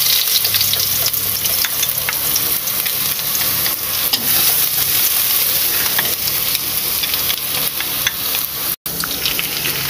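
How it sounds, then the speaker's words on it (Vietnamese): Shallots and minced garlic fry in hot oil for a pork offal and coconut water braise, giving a loud, steady sizzle with stirring that runs throughout, broken by a very brief dropout near the end. "Giờ tiếp tục mình cho hành tỏi băm vô luôn nha."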